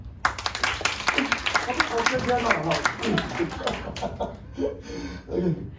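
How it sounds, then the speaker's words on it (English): Scattered clapping from a small audience at a corporate mindset session, a brief smattering of claps mixed with voices and light laughter, fading out toward the end. "Yeah, a round of applause."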